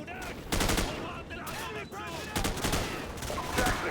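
Gunfire in the Call of Duty 4 campaign, rapid bursts of automatic weapons fire in loud close clusters with brief gaps between them, under a steady background battle din, and a voice speaking briefly.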